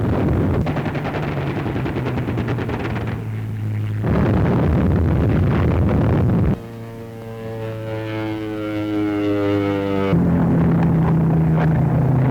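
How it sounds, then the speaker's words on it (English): Hurricane fighter-bombers sweep in on a jungle village in Burma during World War II, with bursts of rapid machine-gun fire and explosions alternating with the steady drone of propeller aircraft overhead. "Hurricane fighter bombers sweep in to attack a jungle village"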